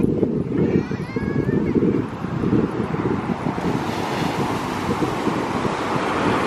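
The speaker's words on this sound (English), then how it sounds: "The waves must be really high today." Ocean waves roll at a beach under strong wind, a loud continuous roar with heavy buffeting wind on the microphone and surf washing steadily throughout, plus a faint whistle-like tone early on.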